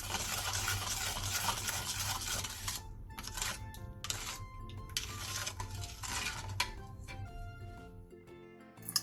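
A spoon stirs water, brown sugar, soy sauce and cinnamon powder in a bowl to dissolve the sugar, giving soft irregular scraping and clinking strokes close by at low volume, with no talk.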